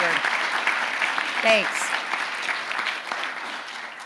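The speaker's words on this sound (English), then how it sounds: "Let's give him a big round of applause." Steady audience applause at a State Department briefing, sustained clapping filling the room throughout while someone briefly speaks over it.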